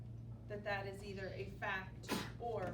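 A single short, sharp sneeze breaks out in a classroom, brief and fairly near, cutting in between a teacher's ongoing speech.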